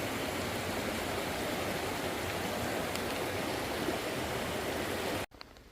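A small river on the Appalachian Trail flows in a steady, full rushing wash, close and continuous, then cuts off abruptly near the end.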